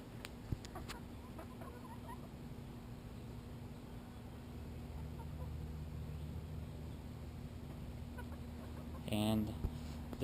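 Backyard chickens eating treats from a homemade dispenser are mostly quiet under a constant low hum and faint rustling. A brief burst of clucking rises near the end.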